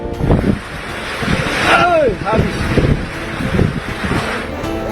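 Violent tornado winds tearing past damaged houses in Bau-Bau, a loud continuous roar with rushing gusts and buffeting against the microphone, while people talk and shout underneath throughout.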